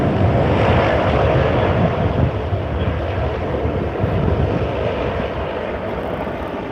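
A Qantas Boeing 737-800 jet passes at a planespotting spot, its broad steady engine roar filling the air throughout, loud and continuous, slowly easing off toward the end with wind buffeting the microphone.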